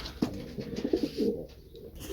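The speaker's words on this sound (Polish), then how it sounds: "Te gołąbki, które teraz to już do lotu raczej nie" Domestic pigeons in a loft coo softly in a series of low, rounded calls, fairly close but quiet over a steady background hiss.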